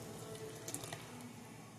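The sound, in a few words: coconut milk being poured into a curry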